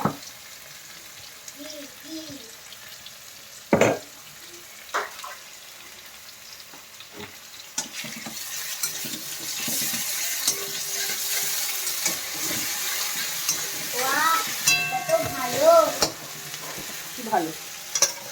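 Ginger and garlic sizzle and crackle in a hot pan with broadband frying hiss swelling louder partway through, while a spoon scrapes and stirs in repeated close clatters; faint voices murmur underneath at times.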